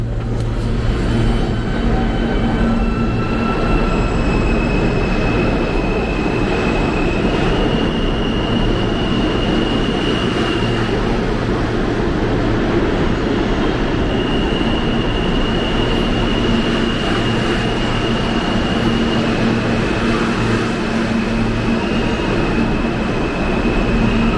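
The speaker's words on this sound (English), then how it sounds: "Now this train is moving so slow" A New York City F train subway car rumbles along slowly, giving a continuous loud interior roar with faint high squeals from the wheels that hold steady throughout, with no voices.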